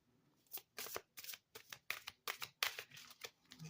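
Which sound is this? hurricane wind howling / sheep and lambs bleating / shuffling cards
shuffling cards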